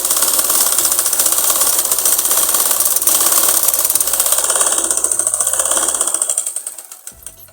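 A sewing machine stitches a seam on an umbrella frock for a young girl, a loud, fast, even needle rattle that runs continuously and then slows and stops near the end.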